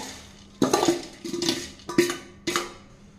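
Fried boondi tipped into warm sugar syrup and stirred for laddu, giving a few distinct scraping clinks of a spoon against the pot at irregular intervals, close and moderately loud.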